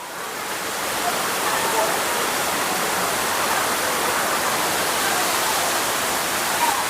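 Thirparappu waterfall on the Kerala–Tamil Nadu border roars as a loud, steady broadband rush of falling water, unbroken and close throughout.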